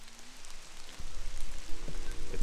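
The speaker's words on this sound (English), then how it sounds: "It's raining the whole day, but everything looks so cool." Winter rain falls on a cycling and camping trip out on the road, a soft, dense patter that grows more pronounced midway, with faint background tones and no talk.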